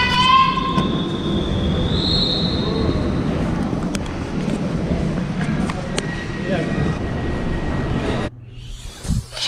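A German passenger train running on rails, with a steady rumbling roll, high wheel squeal and tonal whines up close, a few voices faintly mixed in, before the sound cuts abruptly near the end.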